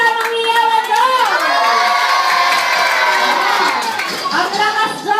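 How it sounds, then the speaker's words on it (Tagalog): A crowd of children at a birthday party cheers and shouts together in a loud, sustained high-pitched roar that swells and then breaks into scattered yells. "Isang malakas na palakpakan na kasamang hiyawan doon."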